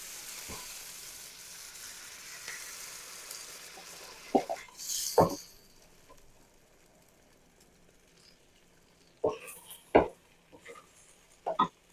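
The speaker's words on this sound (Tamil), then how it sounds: "இதை வதக்கிட்டு இப்போ முட்டையை ஊற்றிடணும்." Egg poured into a pan of spinach and fried, a soft sizzle under occasional sharp clacks and scrapes of stirring, close by with no talking.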